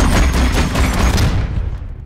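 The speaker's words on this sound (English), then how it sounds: "the amp suit has to sound like the most massive cannon you ever heard" A massive cannon sound effect for the AMP suit, a giant combat mech, fires as a loud, dense burst of booming gunfire that rolls on for about two seconds before cutting off.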